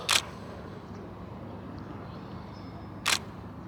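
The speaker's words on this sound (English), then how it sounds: "I'm just shooting a time lapse with my Nikon D4" A Nikon D4 shutter fires twice while shooting a time lapse in a garden, two crisp close clicks about three seconds apart over a low steady outdoor background.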